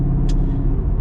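A 535-horsepower car drives along a road, its engine a steady, loud, close rumble throughout, with one brief hiss partway through.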